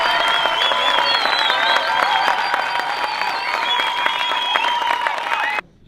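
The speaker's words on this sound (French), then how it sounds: "je voudrais que tout le monde fasse un tonnerre d'applaudissements pour les candidats" Loud, dense crowd applause with cheering and whistles at a Marseille film premiere, a thunderous, sustained ovation for the cast that cuts off abruptly at the end.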